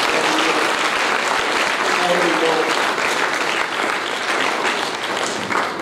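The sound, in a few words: congregation applauding in church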